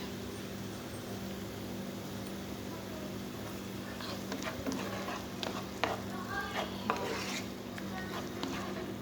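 Tomatoes frying for protein-rich dal, a low steady sizzle in the pan with scraping stirring strokes and light utensil clinks in the second half.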